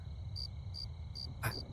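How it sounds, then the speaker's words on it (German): Crickets chirp in a night forest in the video game The Cursed Forest, short high pulses repeating evenly about every 0.4 seconds over a low ambient hum. "Grillen."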